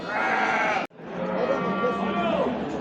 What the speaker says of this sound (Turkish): Kuzudan ayrılmış kısır koyunlar arkadaşlar.